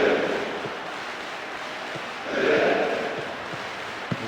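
A stadium crowd in the football video game PES 2009 roars as a broad, continuous wash of noise, swelling briefly louder midway, with no clear voices standing out.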